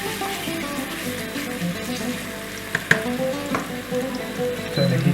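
Ground beef browning in a hot pan for Greek pastitsio, a steady close sizzle and crackle with a few sharp scrape or stir knocks partway through and no talking.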